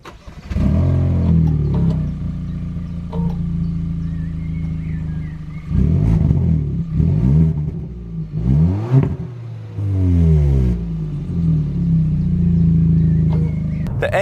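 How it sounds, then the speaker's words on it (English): A 2019 Kia ProCeed GT fires up with a sudden dramatic bellow, then its exhaust holds a loud, deep idle with several sharp revs rising and falling, close and alone without talk. "When you first start the car up, you are greeted by quite a dramatic bellow, quite a roar, and it is louder than you may expect."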